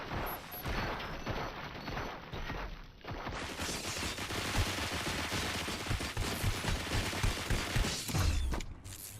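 Gunfire in RoboCop: Rogue City builds into a sustained barrage of rapid shots, with metallic mechanical creaks and clanks early on and a low rumbling thud near the end.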